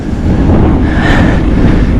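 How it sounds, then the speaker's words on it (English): A very long freight train rolls past close by, a loud continuous roar of wagons with a rising metallic whine partway through. "This train is about 1 kilometre long, maybe 2."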